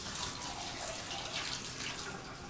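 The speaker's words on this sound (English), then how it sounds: "I leaned back against the hot water and rinsed the shampoo out of my hair" Hot shower water runs steadily in the PC visual novel Neighbor, a continuous close hiss of spray pattering without pause or voices.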